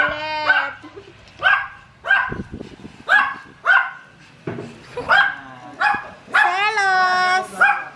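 A small dog barks in short, sharp bursts about every half second, close and loud, ending in a longer whining yelp, with a voice talking over and between the barks.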